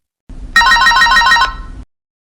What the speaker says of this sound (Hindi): वह तुरंत बबलू को फोन करता है।